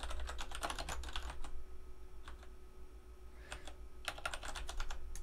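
Quiet bursts of computer keyboard typing, with short clusters of crisp key clicks separated by pauses over a low steady hum.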